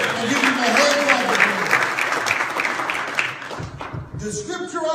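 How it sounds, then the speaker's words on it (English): A church congregation applauds and claps in a sustained burst that fades near the end, with voices mixed in among the clapping. "And give him a hand clap."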